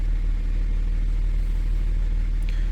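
A Kia Stinger's gasoline direct injection engine, which has a low fuel pressure fault, idles steadily up close with an even, pulsing mechanical hum.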